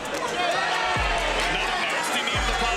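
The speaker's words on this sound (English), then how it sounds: "You heard the crowd." A fight crowd roars in a steady wash of noise after a nasty knee to the body in a clinch during a bout involving Dakota Ditcheva, with a commentator talking over the din.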